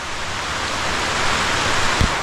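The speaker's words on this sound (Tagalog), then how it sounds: "Lakas ng ulan." Heavy rain pours steadily outdoors on a plot of land, a dense, constant hiss with no pauses, close and loud, with a brief knock near the end and no talking.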